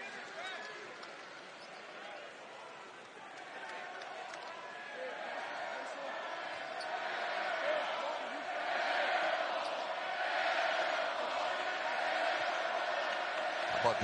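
Basketball arena crowd at an NCAA men's game, Nebraska hosting Purdue, a broad roar that swells gradually and stays high, heard under a commentator's play-by-play.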